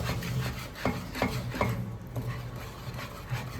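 Bombay halwa mixture being stirred in a pan, a close, quiet series of rubbing scrapes and soft knocks of the spoon against the pan in an uneven rhythm, with no speech.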